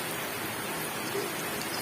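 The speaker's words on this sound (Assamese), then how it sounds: "আৰু আজি পুৰা বৰষুণো দি আছে," Heavy rain falls steadily outside a home kitchen, a constant dense hiss with no breaks, moderately loud and alone with no voices.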